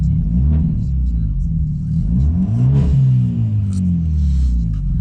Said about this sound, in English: Do a little rev.